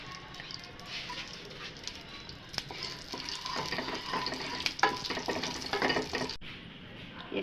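Cinnamon frying in ghee in a frying pan, a close, steady crackling sizzle with sharp spits and pops growing busier, plus occasional stirring scrapes.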